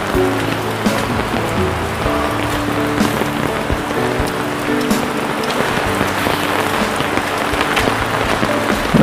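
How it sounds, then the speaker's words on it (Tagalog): Heavy rain pours down in a forest, a loud, dense and continuous hiss of drops drumming on surfaces close by, with no break for the whole stretch. "Naku, lumakas ang ulan."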